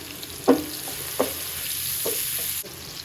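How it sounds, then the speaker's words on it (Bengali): Onions frying in a pan give a soft, steady sizzle, while a utensil scrapes through them in three or four separate strokes, close by and fairly quiet. "পেঁয়াজটা একটু নাড়া দিয়ে নিই।"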